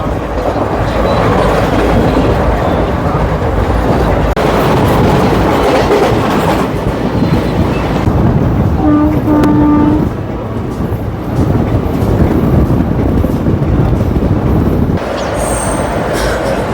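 Tungabhadra Express rolling at speed, heard from aboard: loud steady rumble with rhythmic clickety-clack of wheels over rail joints, a brief squealing wheel tone near the middle, continuous throughout.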